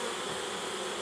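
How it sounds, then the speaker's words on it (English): Honey bees buzz steadily over a brood comb heavily infected with American foulbrood, a close, continuous droning hum without pauses. "There are some healthy bees in there, but not too many."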